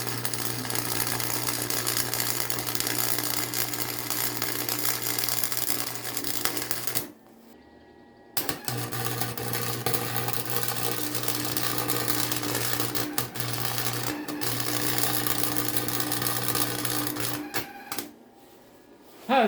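A welder crackles and buzzes in long, steady bursts while melting through metal on a first welding attempt, loud and close, with two short pauses between runs.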